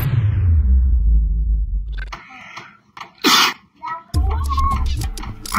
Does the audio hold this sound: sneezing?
yes